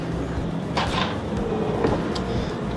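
A full-extension drawer in the bathroom of a 2018 Holiday Rambler Endeavor 44H motorhome slides open and shut, giving a couple of short sliding thumps over a steady background hum.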